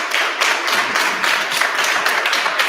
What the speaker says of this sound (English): Let's give a round of applause for Melissa.